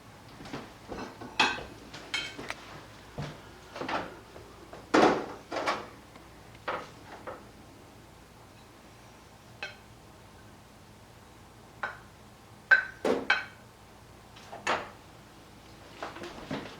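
Dishes and utensils clink and knock in scattered, irregular taps while chicken, rice and green beans are plated, with a few louder clatters among quieter scrapes and no talk.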